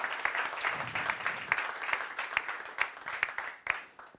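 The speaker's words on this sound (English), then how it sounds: "So give him a warm round of applause." Conference audience applauding as a speaker is welcomed to the stage at a manufacturing forum session: brisk, dense clapping from many hands, fairly even throughout and tapering slightly near the end.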